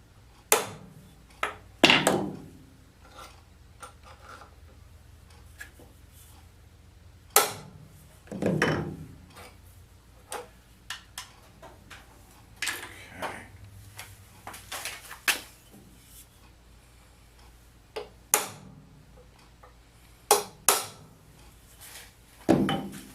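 A transfer punch is tapped with sharp metal strikes at irregular intervals, hits spaced by pauses, close and fairly loud, with a few lighter taps between.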